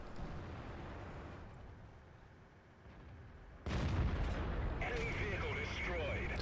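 Tank cannon fire in World of Tanks from the Action X and Centurion, heard as a sudden loud blast midway that jumps over steady engine rumble, followed by ringing game effects, while someone talks throughout.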